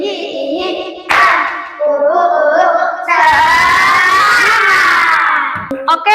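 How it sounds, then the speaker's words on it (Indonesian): Schoolchildren in a classroom clap their hands together while their voices chant and shout loudly over the claps, the noisy group sound rising and falling throughout. "Baik, tepuk tangan untuk kita semua. Tepuk semangat."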